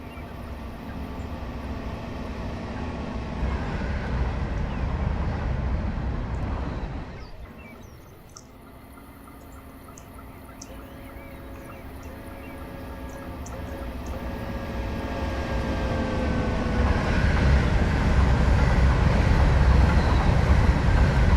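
A train in the Train Simulator 2020 game on a New Haven route rumbles past with a loud, steady roar that dips briefly, then swells again as railcars clatter by close at hand.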